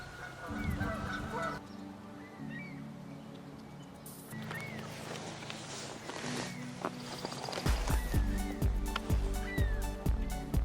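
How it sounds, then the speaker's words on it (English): Geese honk repeatedly in a noisy, agitated tangle, with scuffling and thumping movement throughout, growing busier toward the end. "Let's see what happens while the geese fight."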